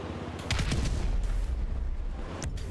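A breaching charge detonates in Grand Theft Auto V, a loud, dense explosive roar that fills the whole clip with rumbling, crackling debris and no voices.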